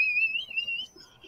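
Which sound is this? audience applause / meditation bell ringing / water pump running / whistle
whistle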